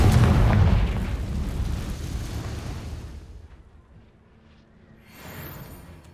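A Confringo explosive spell in the Hogwarts Legacy video game bursts with a heavy, loud boom that rumbles and fades over several seconds, followed by a softer rumble near the end.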